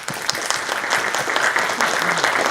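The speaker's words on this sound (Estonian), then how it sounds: "Teeme kõigepealt väikse aplausi ka." Audience applause after a talk on industry policy and foreign labour, a steady dense clapping from a seated crowd that runs evenly through the whole stretch at moderate loudness.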